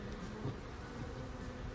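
Honey bees buzz at an opened backyard hive in North Port after a robbing frenzy, a dense, steady drone close by with no talking.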